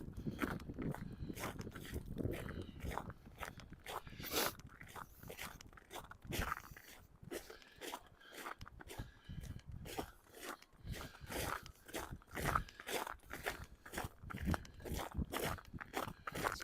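Footsteps crunching through fresh first snow on a sidewalk in Regina in October, a steady walking rhythm of close, crisp crunches continuing alone for several seconds.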